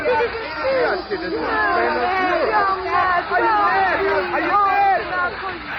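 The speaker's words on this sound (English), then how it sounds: "The crowd's gone nuts." A radio drama crowd roars and clamors in agitation, a dense wall of shouting and babbling voices filling the scene steadily throughout, close and loud.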